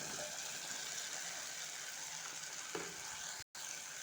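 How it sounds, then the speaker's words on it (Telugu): Capsicum sizzles steadily in a pan of tomato curry while being stirred, an even frying hiss heard up close with no talk. "క్యాప్సికమ్ అయితే వేసాం కదండి వేసుకున్న తర్వాత ఇలా కలిపేయాలి మొత్తం టోటల్గా"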